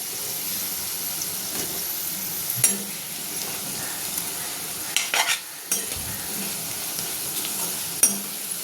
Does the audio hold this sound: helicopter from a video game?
no